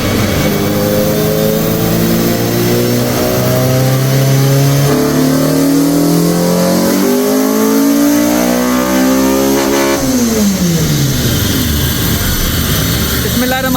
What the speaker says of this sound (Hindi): अब गाड़ी का फाइनल रन करने लगे हैं